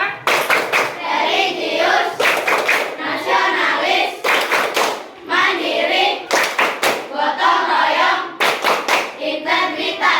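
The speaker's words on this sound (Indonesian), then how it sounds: "Tepuk PPK." Students in a classroom perform a rhythmic clapping chant, with crisp, tightly synchronized hand claps in repeating patterns under loud group chanting by children's voices. The sound is close and sustained throughout.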